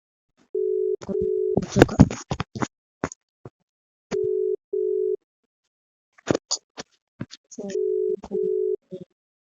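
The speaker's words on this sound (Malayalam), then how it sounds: "ഞാൻ എമ്മാൻ്റെ ഫോണിൽ വിളിച്ചോക്കട്ടെ." A telephone line sounds while a call is being placed: short, repeated steady tones come in separate bursts, broken by clicks and handling noises, and the signal stops and restarts several times.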